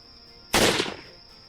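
A single loud big-rifle shot in Hunting Unlimited 2010 cracks out of a faint background hum, then decays over about half a second into a rumbling echo.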